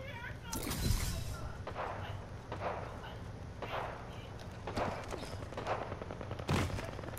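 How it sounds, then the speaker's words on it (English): Gunfire in the shooter Apex Legends, a series of sharp shots and short bursts scattered irregularly over several seconds, some close and some more distant. "I hear the shooting"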